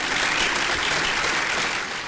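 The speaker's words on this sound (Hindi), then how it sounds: "दोनों हाथ ऊपर उठाकर ताली बजाएं पूरा सदन।" Sustained applause from a large audience at a religious temple consecration festival in Rajasthan, dense and steady throughout with no voices on top, tapering slightly at the end.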